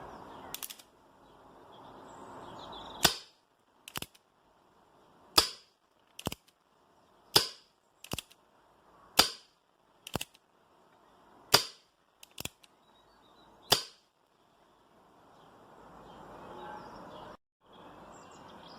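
A Tanaka Colt Single Action Army airsoft revolver fires green gas with 0.2 gram BBs, about a dozen sharp, spaced pops at an unhurried pace, close and loud against a quiet outdoor background with faint birdsong.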